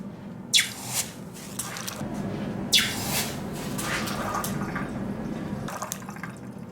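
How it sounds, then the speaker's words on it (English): A hot forged steel crook knife blade plunged into water, then into oil, giving two sharp hissing sizzles followed by lingering bubbling and churning of liquid, close and fairly loud with no talking. "I'm using a combination of a snap quench in water, then completing the quench in oil"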